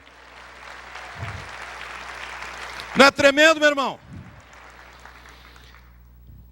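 A church audience claps in a short, loud burst of applause lasting about a second, set between stretches of a preacher's amplified speaking.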